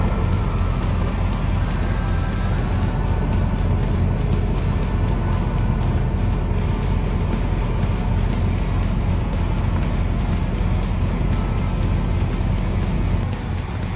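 A tow truck engine roars steadily as it hauls a stuck Swift truck out of mud, a loud continuous low rumble with no pauses.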